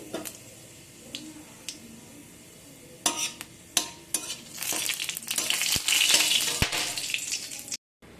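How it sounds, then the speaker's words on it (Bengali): Bay leaf, dried red chili, panch phoron and cumin hit hot oil for a Bengali bori palak ghonto, starting quiet then bursting into loud crackling sizzle with a few sharp clinks and stirring sounds near the end. "তেল গরম হয়ে গেলে দিয়ে দেবো একটা তেজপাতা একটা শুকনো লঙ্কা আর পাঁচ ফোড়ন"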